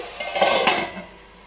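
A metal lid set down on a pan of ridge gourd and coconut curry: a short, close clatter and scrape of cookware lasting under a second, then quiet.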